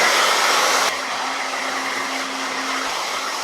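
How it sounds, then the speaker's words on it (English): A handheld blow dryer drying long hair during an at-home blowout, a loud steady whoosh of airflow with a whining motor hum that drops slightly in intensity partway through, running continuously up close with no talking. "I'm just gonna go in with the blow dryer"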